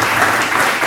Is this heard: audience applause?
yes